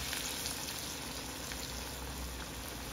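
Dal vada fritters frying in oil in a pan, giving a steady, dense sizzle that stays close and even throughout with no voices.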